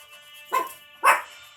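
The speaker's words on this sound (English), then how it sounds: "yep, I have a dog." A dog gives two short, sharp barks about half a second apart, close by in a quiet indoor setting with a faint steady hum.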